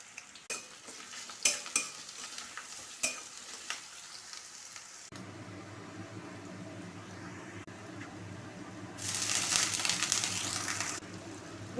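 Chopped onion and garlic paste fry in mustard oil in a wok, a soft steady sizzle with a few sharp scraping stirs early on, then a louder hiss swelling near the end; no talking.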